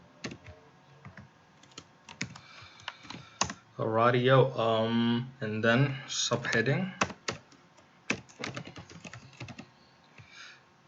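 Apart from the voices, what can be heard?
typing code on a computer keyboard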